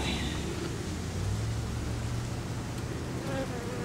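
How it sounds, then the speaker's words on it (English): Steady, dense buzzing of many honey bees close by at a hive in a wooden column, a continuous droning hum that fills the whole clip without pause. "But at least they're very nice bees."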